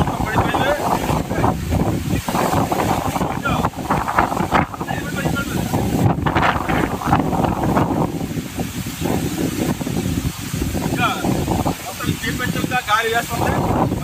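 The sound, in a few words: strong wind blowing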